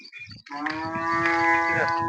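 A Jersey cross cow at a farm gives one long, loud, close moo with a rich harmonic tone that starts after a brief pause and holds steadily to the end.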